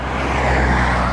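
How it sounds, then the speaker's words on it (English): A car rushes past on a road beside the Albany-Hudson Electric Trail, a loud, close, steady roar of engine and tire noise with no voices over it. "Sorry for the traffic noise."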